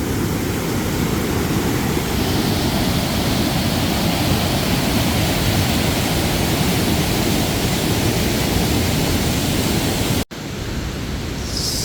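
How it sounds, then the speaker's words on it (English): A rain-swollen creek rushes steadily along a woodland walkway at a winter campsite, a loud, unbroken broadband wash that holds for about ten seconds before a sudden cut. "There's like a little creek going on here."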